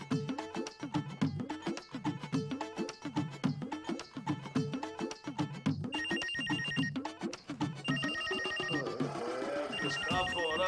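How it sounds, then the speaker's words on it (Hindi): A telephone rings steadily in repeated electronic trills, fairly close, continuing alone with no voices before the pattern shifts near the end. "किसका फोन आ गया सवेरे सवेरे?"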